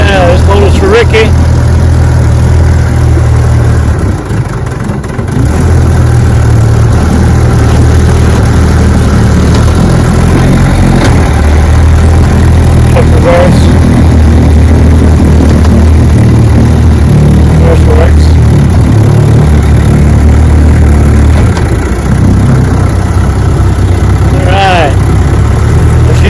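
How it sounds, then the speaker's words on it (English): A restored Johnson outboard motor drones loud and close on a bayou test run, a steady low rumble with slight surging, and someone speaks briefly over it. "Yeah, she runs good, feeling good. Feeling good, nice motor."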